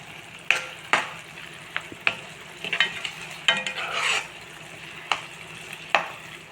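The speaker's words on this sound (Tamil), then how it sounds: "இதில் சேர்த்துட்டு ஒரு நிமிஷம் கிளறி கொடுத்துடலாம்" A spoon scrapes and knocks around a pan of makhana gravy in uneven strokes, with soft sizzling and bubbling beneath, close and clear.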